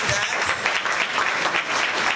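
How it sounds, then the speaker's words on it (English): A school debate audience applauds steadily at a prize announcement, a dense even wash of clapping that holds at the same level from start to end. "Everyone deserves a round of applause."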